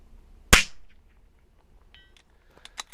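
A .22LR Zermatt Rim-X rifle fires one sharp, close shot, followed by quiet and a few faint metallic clicks and taps from the action, with no voices.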